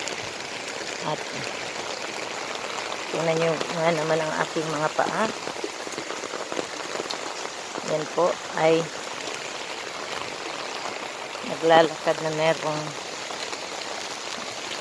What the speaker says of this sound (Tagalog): Sobrang ulan po dito sa amin.